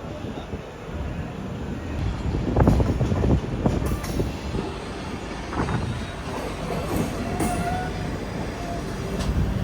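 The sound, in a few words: Taj Express train departing Agra Cantt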